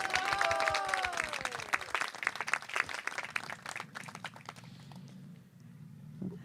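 A crowd claps and applauds steadily, with a voice calling out over the start before the clapping thins and fades.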